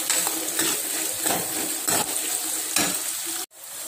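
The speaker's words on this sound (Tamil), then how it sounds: "நல்லா ஹையில் வச்சு வதக்குங்க. நல்லா ப்ரௌன் ஆகணும்." Onions sauté over high heat in a loud, dense sizzle with periodic stirring scrapes roughly every half second, close by, until the sound drops off sharply near the end, no speech.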